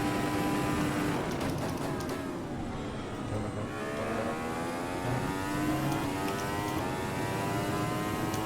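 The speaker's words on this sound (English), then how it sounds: "I will then hop into the default AMS Formula Ultimate and try that" An AMS Formula Ultimate race car from the Automobilista racing game revs up and down, its engine pitch sweeping and climbing as it drives a lap at Montreal, fairly quiet, with no talking.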